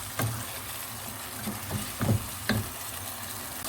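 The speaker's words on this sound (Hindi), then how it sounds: "ये गोश्त मैंने भून लिया है, इसमें मैं ये आलू डाल के थोड़ी देर के लिए भूनूंगी।" Potatoes and browned meat sizzle and fry in a pan for aloo gosht, a steady close hiss with a few soft stirring knocks and scrapes, no talk.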